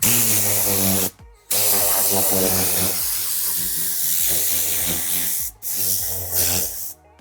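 Air Blaster Mini forcing compressed air over dirt in a car seat, a loud continuous hiss with a steady hum underneath, cutting off briefly twice before resuming strongly.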